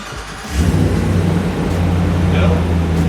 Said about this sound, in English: We just finished the exhaust. Want to hear this thing real quick?